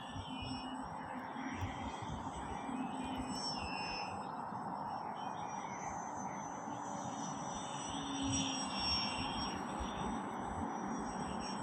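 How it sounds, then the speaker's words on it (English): A Skynetic Sbach 342 flat foam RC plane flying nearby: a continuous thin electric motor whine with a high whistling tone that rises and falls slightly as it manoeuvres, steady at moderate distance. "This is also a plane which you can fly quite close to where you're at."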